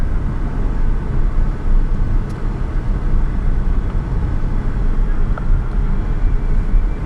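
An all-original 1986 Nissan Skyline Passage R31 with an RB20ET engine cruises with a continuous broadband rumble of engine, tires and road noise heard from inside the cabin, steady and moderately loud, no talking.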